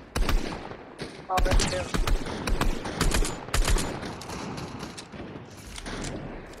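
Rapid gunfire bursts from a Fortnite-style battle royale match, sniper shots mixed into loud, dense volleys that come in clusters and then thin out, with someone speaking briefly over the shooting.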